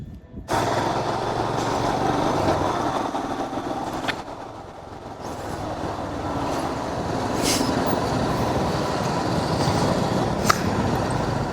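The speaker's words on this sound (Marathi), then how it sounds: "आता बाईकवर बसतो आणि राईड आऊट करतो" A motorcycle rides out onto the road on a long-distance trip from Rajasthan toward Chandigarh. It makes a steady, loud roar of engine and wind rush that dips briefly, then holds constant.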